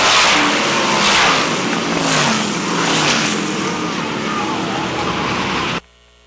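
Sprint cars roar around the track during a 30-lap ASCS A main race, a dense, continuous engine howl swelling and fading as cars pass, with a voice faintly over it before the sound cuts off abruptly.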